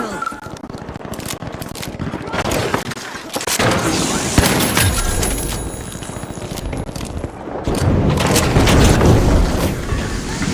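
Chaotic firefight in the video game The Finals, with a loud flashbang blast among dense gunfire, booms and clattering debris, continuous and heavy throughout, with faint voices mixed in.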